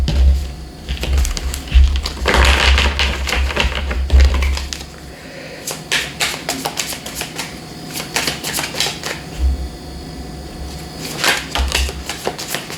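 Tarot cards being shuffled by hand produce crisp, rapid clattering flurries in repeated bursts, fairly close and loud, with brief pauses between runs and no talk.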